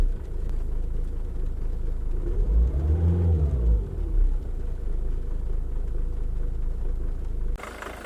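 A Jaguar X-Type diesel engine idles with a steady low rumble, revving up once to a brief rising-and-falling roar before settling back to idle.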